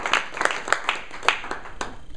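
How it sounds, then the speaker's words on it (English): An audience at a seminar gives the panelists a short round of applause. The clapping is moderate and fairly sparse, with individual claps distinct throughout. "let's give them a round of applause"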